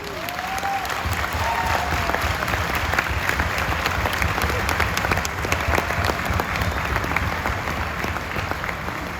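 An audience at a Modicare business meeting breaks into applause, a dense, sustained roar of clapping that holds steady at the same level for the whole stretch, with no talking over it.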